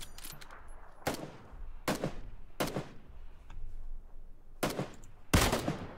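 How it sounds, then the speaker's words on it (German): Gunfire in the video game PUBG aimed at a car near a tree, a series of sharp, loud single shots and short bursts spaced about a second apart, crisp and close over a quiet background. "Ja, ich schieß weiter auf den Wagen."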